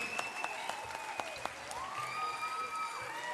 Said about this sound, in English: give yourselves a round of applause for the Hamilton crew